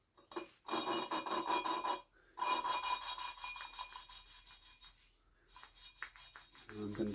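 A motorcycle valve from a 1983 Honda XL600 is lapped with coarse grinding paste, giving close, gritty rubbing strokes in steady back-and-forth bursts that pause briefly and then resume, with nobody talking.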